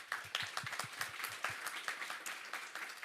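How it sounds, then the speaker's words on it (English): A modest audience claps for the panelists at the close of a reading-focused panel discussion; distinct, fairly quiet hand claps that start crisp and then thin into a softer, scattered patter. "Let's give them all a round of applause."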